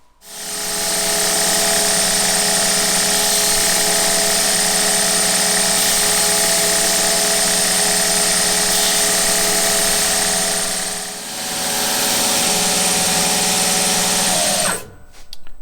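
A belt grinder fitted with a ceramic belt runs loud and steady against a parang blade, a sustained motor whine with a short dip partway through before spinning down at the end, close up and with no voices.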